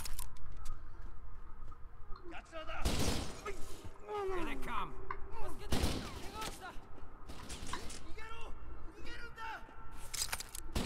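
Gunfire in the shooter game Kane & Lynch: Dead Men cracks out in sharp bursts, with loud volleys around the middle and lighter scattered shots, while someone talks over the action.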